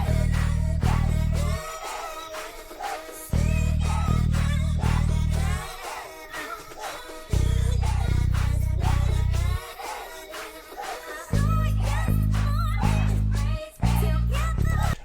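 A royalty-free synth vocal sample plays on its own: chopped, sung vocal phrases over heavy sustained bass chords that drop out and return in blocks, loud and continuous.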